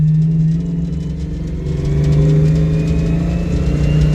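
A Ford Mustang accelerates with a steady mid-pitched engine drone that swells and dips slightly, heard loud and close from inside the car without talk.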